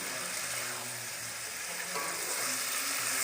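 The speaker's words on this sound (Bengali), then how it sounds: "টমেটোটা ভালো করে নেড়ে দেবো।" Tomatoes and bitter gourd sizzle steadily in a frying pan for a Bengali magur fish and korola dish, a constant close hiss with faint scraping of stirring and no talk.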